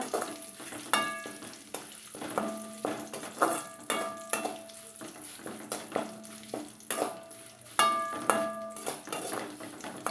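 Snack mix ingredients fry in a little oil with a soft crackle, broken by repeated ringing clinks and scrapes of a metal spatula against the pan at a fairly regular rhythm.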